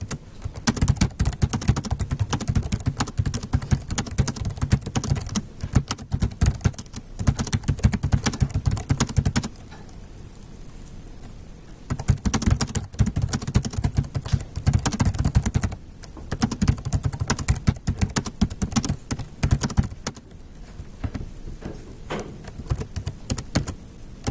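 Continuous typing on a computer keyboard during a physics lecture, close-up with rapid clattering keystrokes in long runs broken by a couple of quieter pauses, no talking.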